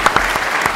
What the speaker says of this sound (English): before giving them a warm round of applause